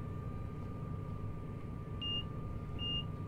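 Warning alarm in a train simulator game on the Retiro–Junín line, sounding as two short electronic beeps, around the two- and three-second marks, over a steady hum and low rumble.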